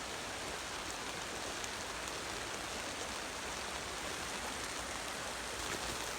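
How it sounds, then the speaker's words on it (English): Rain falling on a wild riverside camp under a canvas tent makes a steady, dense hiss of drops, even and unbroken throughout, fairly soft and with no voices. "It's still raining."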